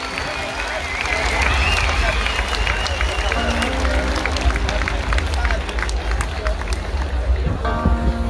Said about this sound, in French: On les applaudit très fort, s'il vous plaît.